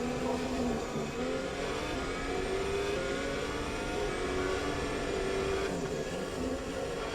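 Race cars lap the Hungarian Grand Prix circuit in a sim racing practice session, a steady engine drone with rising and falling revving tones, moderately loud and continuous without pause.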